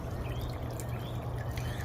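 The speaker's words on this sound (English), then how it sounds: "we got a good amount of water coming out" Water streams out of an aquaponic filter fed by gutter pieces on a 270-gallon pond, a soft, continuous trickling pour heard close and alone.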